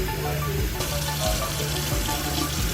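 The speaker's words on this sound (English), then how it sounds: "we're gonna fill up the pot with the peppers with some cool water" Cool tap water runs steadily into a pot of chili peppers, a close, continuous splashing hiss with a bubbly gurgle as the pot fills, heard alone.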